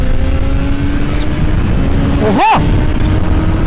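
A Kawasaki Ninja H2 motorcycle accelerates with a loud, sustained, close engine roar mixed with wind noise, broken by a short rising whine and a brief exclamation from a voice.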